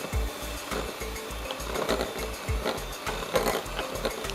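An electric beater running at low speed whips egg yolks with sugar and vanilla essence for a chocolate cake, giving a steady, close mechanical whir with a fast regular rattle as the beaters knock against the bowl.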